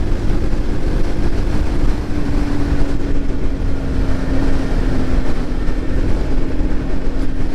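A Kawasaki KLX300 dual-sport motorcycle rides at speed, a loud continuous engine drone blended with heavy wind rush, steady and unbroken throughout with a faint sustained tone running underneath.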